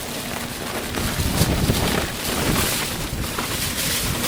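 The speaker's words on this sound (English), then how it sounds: "I'm sorry about the noise, it's really windy" Strong wind on the quayside at Blyth buffets the microphone in a constant roar with gusty swells, loud and close, with no voices.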